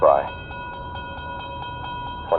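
A train passes a sleepy rural railway junction just over the Oklahoma border, a steady sustained horn-like tone holding evenly throughout with faint rhythmic pulses, fairly close and alone without talk.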